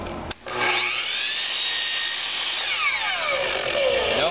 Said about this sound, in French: toujours avec la scie au 45, on vient rejoindre le V qu'il y a ici avec la scie